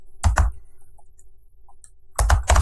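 Keys clack on a computer keyboard as a Helm delete command is typed at a terminal. A short cluster of close keystrokes is followed by a quiet pause, then another quick burst.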